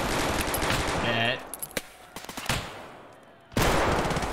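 Gunfire in an arena shooter: a loud burst of rapid shots, then a few scattered single cracks, a short lull, and another sharp burst at the end.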